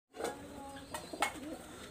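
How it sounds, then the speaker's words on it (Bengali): A pair of Golden pigeons coo softly close by, a few low throaty calls with brief sharper notes, fairly faint against a quiet room. "আমি এখানে আরও এক জোড়া কবুতর দেখাচ্ছি"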